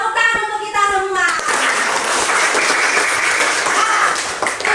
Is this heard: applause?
yes